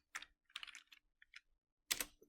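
Typing on a computer keyboard in a few short bursts of key clicks separated by pauses, close and fairly quiet, with no voice.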